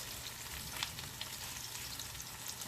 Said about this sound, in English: add the rest of these pork chops to this paella pan